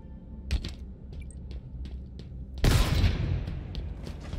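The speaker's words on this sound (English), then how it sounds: "I just wanted to shoot that." Gunfire in the Halo Infinite campaign: a few scattered sharp shots give way to a loud burst of rapid fire and booming blasts that continue and fade toward the end, with no voices.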